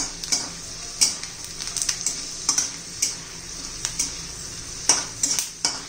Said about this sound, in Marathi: शेंगदाणे चांगले खरपूस असे तळून घ्यायचे आहेत आपल्याला